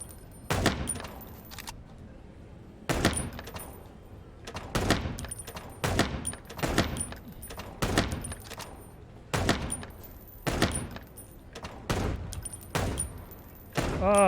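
Gunfire in the video game Chicken Police on Switch: a series of sharp, loud shots in uneven bursts, each with a ringing metallic tail, spaced a second or two apart.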